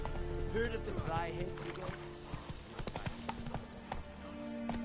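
Rhythmic clip-clop of a horse's hooves in Witcher 3, steady and fairly close, under a voice speaking throughout.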